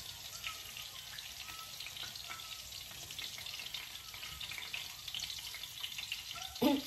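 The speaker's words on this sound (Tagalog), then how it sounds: "magluto ako, guys, ng hotdog" Hotdogs frying in a pan give off a steady, close sizzle and crackle of hot oil that runs the whole time with no talk, ending in a brief clatter.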